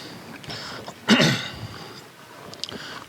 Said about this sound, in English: Note to self, don't try and clear your throat.